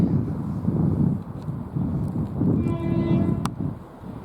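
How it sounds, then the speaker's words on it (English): A Great Western Railway IET train passes through Didcot Parkway on the Great Western Main Line, a steady loud rumble with a brief horn-like tone partway through, wind buffeting the microphone. "And we have a Great Western Railway IET."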